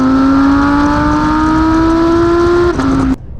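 An Audi R8 Performance Quattro supercar's V10 engine revs loudly and close, holding a steady rising howl for about three seconds before the note drops and cuts off.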